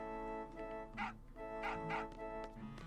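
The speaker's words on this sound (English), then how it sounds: "And the dog barks again" Dog barking in the video game Final Fantasy VIII, set in the town of Dollet: a few short yelping barks over steady game music, moderately loud and spaced apart.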